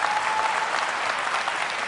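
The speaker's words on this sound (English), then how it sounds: "good, I got applause" A lecture audience breaks into brief, steady applause with many hands clapping together at an even, fairly loud level.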